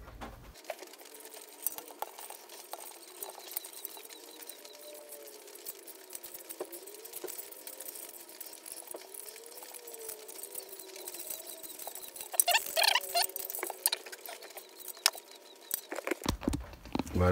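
Electrical tape being unrolled and wrapped around motorcycle wiring on a Suzuki VanVan RV90, a run of close, irregular crackling and ripping pulls that grows louder and busier toward the end.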